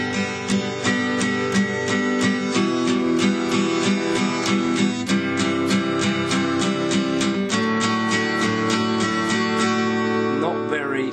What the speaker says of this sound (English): if we were to strum 8th notes